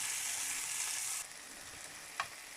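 Korean pork belly (samgyeopsal) cut into small pieces frying in a pan, a steady close broadband sizzle that drops to a quieter crackle partway through, with one brief sharp pop near the end; no talking.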